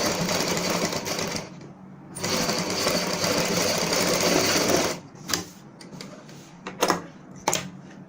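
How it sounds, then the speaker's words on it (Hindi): Sewing machine running steadily while stitching a high-neck kameez, a dense continuous whir for about five seconds, then a few short separate bursts as the fabric is repositioned. "इस प्रकार हम पूरी सिलाई कंप्लीट करेंगे।"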